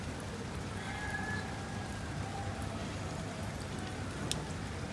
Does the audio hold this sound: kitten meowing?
no